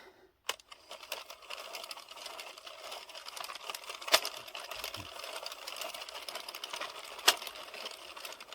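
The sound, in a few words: addi knitting machine row counter clicking at black peg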